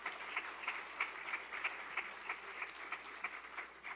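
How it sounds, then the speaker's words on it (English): A small audience at a school staff appointments event in St Kitts and Nevis claps for a senior education planner, with a steady patter of hand claps that sounds faint and somewhat distant, with no talk over it. "Please give her a round of applause."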